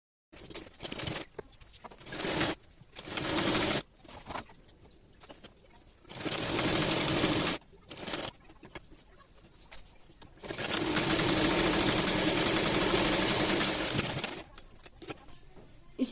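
A sewing machine stitches a net kurti, running in bursts of steady whirring, the longest a sustained run of several seconds, separated by short pauses.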